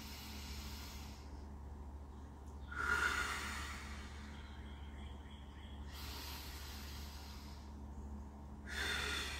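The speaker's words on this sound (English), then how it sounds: "That's inhaling through our nose to a count of seven, exhaling through our lips to a count of seven." Slow 7-7 breathing, inhaling through the nose and exhaling through the lips, soft breathy whooshes rising and fading over a quiet low hum, faint and close, no talking.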